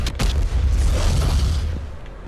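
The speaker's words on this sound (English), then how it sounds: "try throwing that bomb at the wall" A bomb blows up against a wall in the video game Doom Eternal, a loud booming blast with a sharp initial burst and rumbling low tail lasting a couple of seconds.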